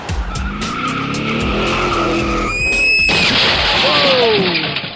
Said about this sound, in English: Car crash.